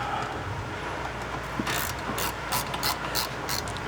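A hand ratchet with a 12mm socket snugs a fitting on a 2008 Subaru Outback strut, giving a run of quick, close, rapid pawl clicks that come in short bursts.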